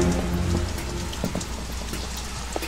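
Steady rain pours down in a Metal Gear Solid 2 scene, a dense continuous hiss of drops with occasional heavier splats on surfaces, over a low rumbling background.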